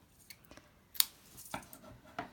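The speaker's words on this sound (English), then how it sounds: "It's the metallic edged ribbon. So just cut a little bit of that off." Scissors snipping metallic edged ribbon during a papercraft Christmas gift tag project, a few sharp, brief cuts close up in a quiet room, with one crisp snip standing out.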